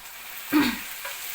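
Shelpek dough goes into hot oil, setting off one short, loud burst of sizzling partway through that fades to a quiet bubbling simmer, heard up close with no voices.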